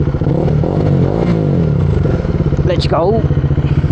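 A freshly washed motorcycle engine idles steadily with a low, dense rumble, then revs up sharply near the end. A person speaks briefly over the engine noise.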